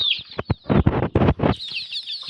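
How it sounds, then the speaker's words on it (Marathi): A red village rooster mounts a hen, and the birds let out a run of loud, close, harsh clucks and squawks in several bursts, with higher chirping calls at the start and end. "हा बघा कसं कोंबडीच्या वर चढले"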